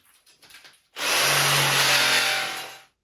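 After a second of light clatter, a jigsaw starts up and runs steadily, a loud, rough whine cutting through wood for about two seconds.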